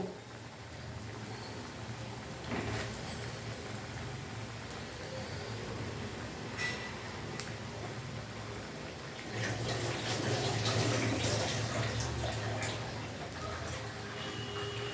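Pumpkin chops frying slowly in oil over low heat, a soft continuous hiss and crackle that swells a little partway through, with a voice speaking faintly over it.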